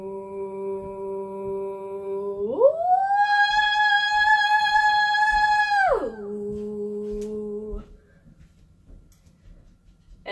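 A single sustained sung vowel in a vocal warm-up, holding a low pitch, sliding smoothly up to a high held note, then gliding back down before fading, with faint background ticks after.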